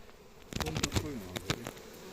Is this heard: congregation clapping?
no